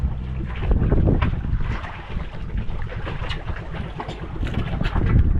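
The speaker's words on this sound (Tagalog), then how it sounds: "Lakas ng makina." A boat motor drones steadily under rushing wind noise, close to the microphone with rough buffeting throughout.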